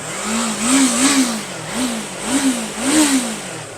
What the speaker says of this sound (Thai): เบิ้ลๆล่อมฟังหน่อยนะฮะ เอาห้าพันแล้วกันครับ รอบหนึ่งหมื่น